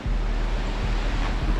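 The steady, dense roar of rushing water fills the air at the Dudhsagar waterfall in Goa, a continuous broadband wash with a low rumble and no pauses.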